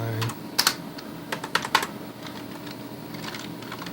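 Keys clattering on an I/O Magic Magickey 3000 computer keyboard, a few quick bursts of close, crisp typing strokes separated by short pauses, with no talking.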